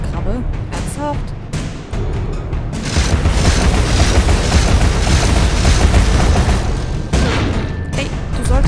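A cannon crab fires in the video game Alice: Madness Returns, giving heavy booming shots and bursts of rumble over dense game noise, with a player talking at the start.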